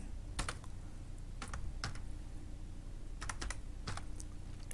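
Keys clatter on a computer keyboard in short bursts of quick taps separated by pauses, close and moderately quiet over a steady background hum.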